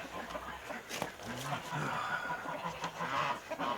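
Hens on a farm clucking softly and intermittently, faint and nearby, with scattered short calls over low outdoor background noise.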